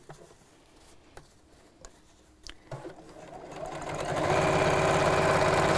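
A sewing machine runs straight across a bag seam, starting with a few faint clicks and brief bursts before building into a loud, steady whirr that holds to the end, close by with no talk.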